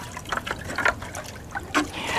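Water trickles and splashes as it is scooped up near a shrimping spot to test temperature and salinity, with irregular small gurgles and drips close by and no talking.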